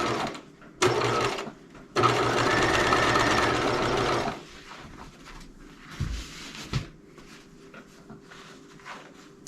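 A sewing machine stitches seams on a pair of trousers. Two bursts of steady motor whirring are loud and close, and softer runs and clicks of the machine follow.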